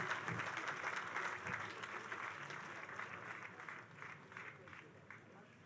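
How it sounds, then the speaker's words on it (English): Crowd at an arena groundbreaking ceremony applauding the commissioner, a steady wash of clapping that slowly fades, heard at a distance. "Let's give the commissioner a big round of applause."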